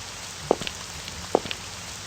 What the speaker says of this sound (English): It's raining. It's raining again.